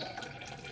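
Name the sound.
weak flow of running water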